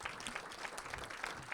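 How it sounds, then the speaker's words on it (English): Audience applause at a chamber of commerce legislative breakfast, a dense, even patter of many hands clapping in a room, moderately loud and continuous for the whole moment. "so give her a round of applause too."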